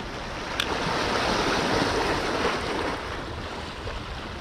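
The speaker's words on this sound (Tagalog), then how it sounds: "Medyo maalon po." Choppy sea waves heard while fishing from the shore or a boat, a steady close wash of surf with wind noise, one faint click near the start.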